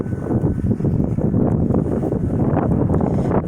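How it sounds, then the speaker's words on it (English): Strong wind buffets a microphone outdoors beside a street of old cars, a loud, continuous low roar with rough gusting texture and no voices. "This wind's been like crazy."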